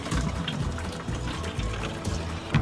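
Water running from a tap into a container being filled outdoors at night, a continuous gurgling splash heard up close with uneven bumps and knocks.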